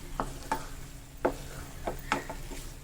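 Carrot halwa cooks in ghee in a pan over a gas flame on full heat, with a faint sizzle broken by a handful of short, scraping stirs of a spoon.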